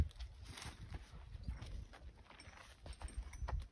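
Horse hooves stepping on the ground as the animal backs up through a gate during halter groundwork, a series of soft, close, uneven thuds and clops with low rumbling noise between steps.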